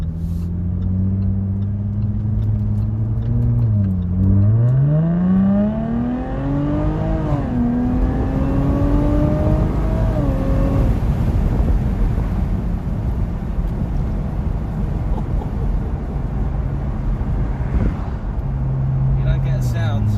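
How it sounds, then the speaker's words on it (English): A Jaguar F-Type P380 with a supercharged 3-litre V6 revs up and down, its engine tone sweeping higher and falling back, then drops to a steady drone under wind rush and road noise. "the 3-litre V6 supercharged engine, and the sound you get from it is just absolutely unbelievable."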